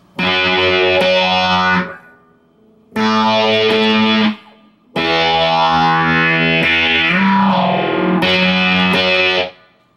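A distorted electric guitar plays the second part of a riff: three loud strummed chord bursts separated by short gaps, the longest with a sliding bend, all alone without talk.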